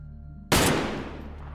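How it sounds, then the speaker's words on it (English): A single sharp gunshot cracks out in the survival game DayZ on the Namalsk map, a sudden loud bang that decays with a short rumbling tail. "He's shooting at me."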